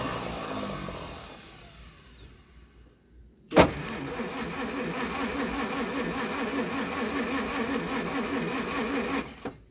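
A 1937 Pontiac Silver Streak barn find has its engine cranking with a slow rhythmic churn, then it suddenly fires and settles into a steady, rough idle that runs on for several seconds.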